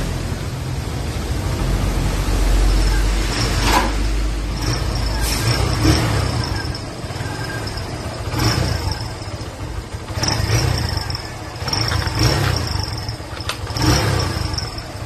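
A Barako 3 FI motorcycle engine idles steadily after the starter is pressed, a continuous low rumble running throughout with faint insect-like hiss and intermittent background sounds.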